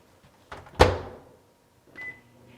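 A microwave oven door thunks shut with a sharp clack, followed moments later by a short electronic beep and the start of a faint hum, all heard close in a quiet kitchen.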